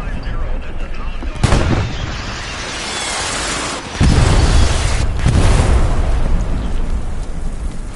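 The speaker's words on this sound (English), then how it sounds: "Is that friendly artillery bombing us?" Heavy artillery fire with booming blasts, one sharp onset early on and a sustained loud rumbling barrage after, rolling on near and loud throughout.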